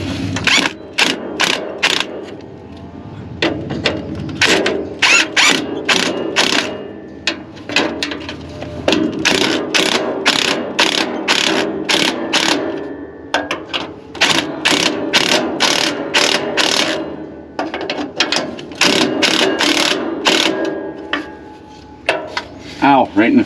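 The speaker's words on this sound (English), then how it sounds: "Let's see if we can get the impact on this girl." Impact wrench working on exhaust bolts under a car, where the pipe joins a flex section, giving repeated loud bursts of hammering rattle with metallic clanks between them across the whole stretch.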